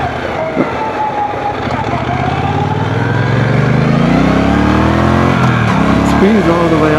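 A 1200cc motorcycle accelerating hard on a first ride, engine note climbing steadily in pitch while revving up, loud and close with rushing wind noise.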